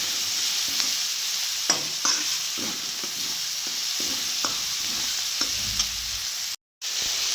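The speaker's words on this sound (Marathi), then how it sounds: "फोडणी देऊन कांदा टाकला भाजायला." Onion frying in hot tempering oil in a pan, a steady soft sizzle with occasional scrapes and clinks of a spoon stirring, close and fairly quiet.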